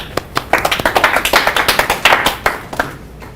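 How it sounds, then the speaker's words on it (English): Scattered hand claps from a small lecture audience, a quick ragged run of claps that builds and then thins out to a few last claps, fairly close, with no voices over them. "Let's give him a round of applause."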